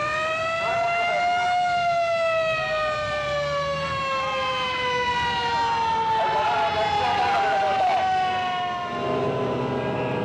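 Fire engine sirens wail loud and close, several tones rising and falling together as fire trucks rush to a drill simulating a blaze at a temple's five-storey pagoda, an important cultural property, with faint voices beneath.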